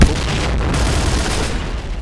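Grenade blasts and rapid gunfire from the shooter video game Point Blank, a loud, dense wall of booming explosions and shots that rumbles without pause for about two seconds, with no talking over it.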